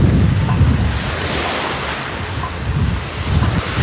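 Rough surf rolls in at a Boracay beach at low tide, with steady loud wash of waves and gusty wind buffeting the microphone throughout.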